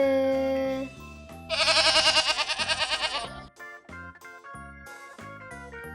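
One long quavering goat bleat rings out close and loud, rising over a steady bed of cheerful background music that goes on after the call ends.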